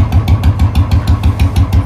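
Royal Enfield Bullet motorcycle with its silencer removed, a loud, close, open-exhaust thump pulsing in a fast, even idle rhythm just after starting.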